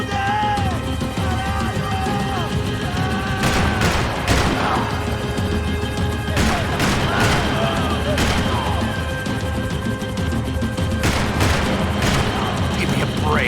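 Gunfire in the video game Max Payne 3: loud clustered bursts of shots crack out in several volleys over a dense, constant action din, with voices and other game sounds running underneath.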